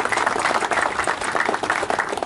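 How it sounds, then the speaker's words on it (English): A crowd gathered outdoors at a pavilion ribbon cutting claps steadily for the board members, a dense, even patter of applause lasting a couple of seconds. "So round of applause again for them."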